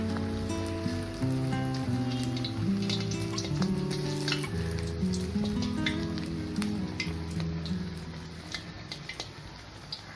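Vadas deep-fry in hot oil over a raised flame, a steady, close, crackling sizzle that runs throughout and eases slightly near the end, with a low tonal hum underneath.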